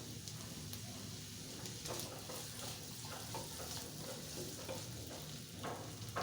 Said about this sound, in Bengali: দিয়ে দিচ্ছি রসুন, দিয়ে দিচ্ছি কাঁচামরিচ স্বাদ মতো। এখন ভেজে নেব।